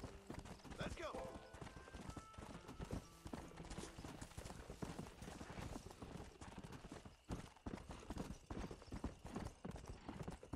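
In the Red Dead game, horse hooves clop steadily at a brisk pace with a brief whinny early on, while someone talks over the sound throughout.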